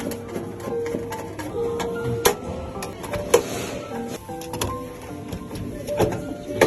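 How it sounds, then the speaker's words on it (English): A screwdriver takes the screws out of the lower half of the lid dropper on a JK88 cap remover, producing a close series of sharp, irregular plastic and metal clicks and ticks over faint background noise. "Use a screwdriver to remove the screws from the lower half of the lid dropper."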